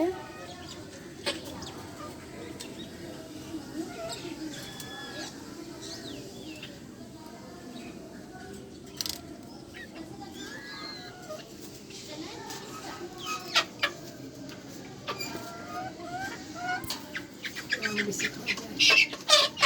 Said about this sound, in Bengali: এই মুরগিগুলো দুষ্টুমি করতেছে মুরগি লড়াই করবে